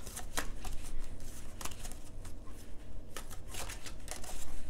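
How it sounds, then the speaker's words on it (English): Tarot cards are shuffled by hand in a close, steady run of papery riffles and flicks, with sharper snaps at intervals and no talking. "I don't know how to shuffle."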